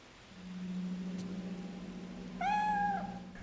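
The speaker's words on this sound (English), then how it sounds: "Ah, who's a cute cat." In the video game Fatal Frame 3, a cat gives one clear, close meow over a low steady hum in a quiet room.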